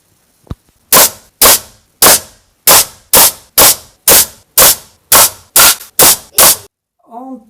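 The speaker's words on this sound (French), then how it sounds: "Encore 3 chargeurs de 6 plombs avec le Dan Wesson 715 qui tire des plombs en 4-5 mm." A Dan Wesson 715 4.5mm air pistol fires pellets in a rapid series of twelve sharp, loud reports at an even rhythm, each shot a crisp crack with a short tail, followed by a faint rattle at the end.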